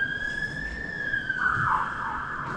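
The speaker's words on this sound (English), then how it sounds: "pause for siren" An emergency vehicle siren passes outside during an indoor panel event, a single sustained wailing tone that holds and then bends downward, moderately loud and somewhat distant, with no speech.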